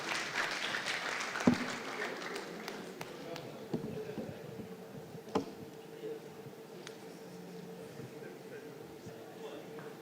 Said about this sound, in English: another round of applause to Fuad Lawal